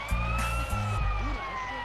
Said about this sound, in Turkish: Sirenimizi kapatalım.